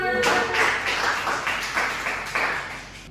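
Applause in a primary school classroom during a maths lesson, a burst of clapping running about three seconds with uneven, repeating swells, fairly close and loud.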